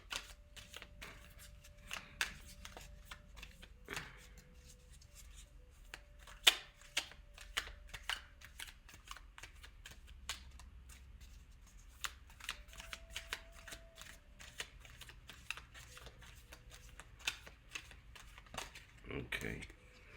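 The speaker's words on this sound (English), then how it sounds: "I need to pull 4 cards from each deck, but I'll do that when I'm done shuffling with this one." Tarot cards are shuffled in a rapid run of crisp riffling and slapping bursts, repeating steadily at close range throughout, with a faint steady tone humming intermittently underneath.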